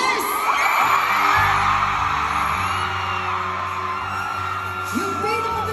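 A large concert crowd at a live pop performance in Kaohsiung, Taiwan, screams and cheers loudly and without a break. Whoops and yells rise above a dense wall of voices.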